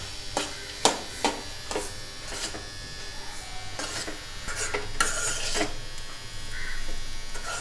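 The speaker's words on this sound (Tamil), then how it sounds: "இப்போ நல்லா மிக்ஸ் பண்ணி விட்டுறலாம்." Rice gets stirred into a lemon mixture in a pan, with repeated close scraping and rubbing strokes of a spoon against the pan at an uneven rhythm over a low background hum.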